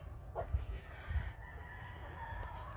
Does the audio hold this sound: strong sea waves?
no